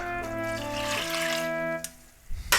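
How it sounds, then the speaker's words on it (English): Water and soaked rice pour into a pressure cooker in a home kitchen, a steady splashing rush that stops about two thirds through, followed by a few quiet clinks. "Now we shall add the rice into the pressure cooker. And along with 1 cup of water"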